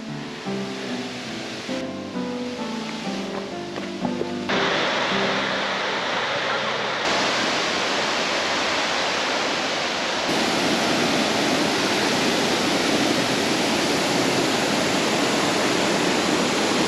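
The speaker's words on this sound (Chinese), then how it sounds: "新寮瀑布" The first tier of Xinliao Waterfall in Dongshan, Yilan gives off a dense, steady roar of falling water that grows fuller and louder after a brief spoken voice at the start.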